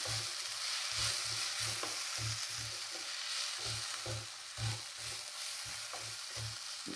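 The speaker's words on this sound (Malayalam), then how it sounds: "ഇതെല്ലാം ചേർത്ത് നന്നായിട്ടൊന്ന് മിക്സ് ചെയ്യാം." Pepper powder and crushed cumin stirred into a pan for a Kerala-style soya curry, a steady run of rhythmic scraping strokes over a continuous sizzle, close and fairly loud, with no voices.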